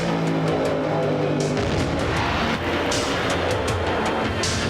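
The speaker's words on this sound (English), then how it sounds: "A tremendous engine explosion." A top-fuel NHRA drag racing car, driven by John Force, suffers a tremendous engine explosion at the finish line during qualifying at Brainerd, Minnesota: a loud, continuous engine roar with broadband bursts and crackling, up close and steady throughout.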